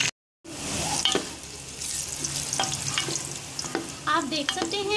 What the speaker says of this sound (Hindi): अब ये प्याज ब्राउन होने के लिए रख दीजिए।